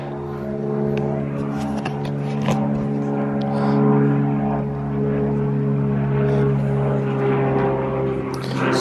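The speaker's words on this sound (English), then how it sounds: "Excuse the noisy plane" Propeller plane passing overhead above a garden, a loud steady droning engine with a harmonic whine that swells and lingers throughout, with faint rustling and small clicks nearby.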